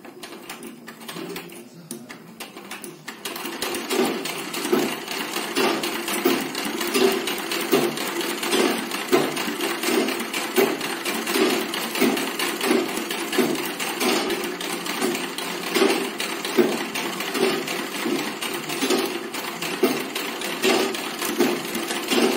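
A sewing machine stitches net lace onto a blouse, starting after a short quiet pause and then running in a steady, fast rhythmic clatter, close and continuous to the end.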